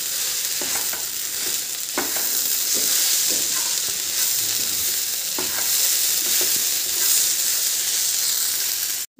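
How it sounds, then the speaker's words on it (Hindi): Spice masala roasted and stirred in a pan for a veg roll tikki, a steady close sizzle and frying hiss with intermittent scraping stirs throughout. "लगभग 1 मिनट के लिए मैंने इस मसाले को और भुना है"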